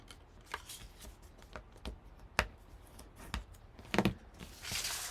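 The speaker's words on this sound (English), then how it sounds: "I'll fold and burnish on my score lines" Scrapbook paper for a mini album is folded and burnished along score lines, making a string of crisp rustling creases and sharp rubbing swipes, ending in a longer brushing rustle.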